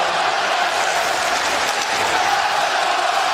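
A hockey crowd at Barclays Center in Brooklyn roars steadily during a Sabres power play at the Islanders' home opener, a dense, continuous wash of cheering with no let-up.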